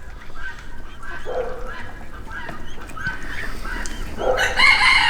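Chickens cluck and call in a muddy coop yard, ending with a loud crow close by.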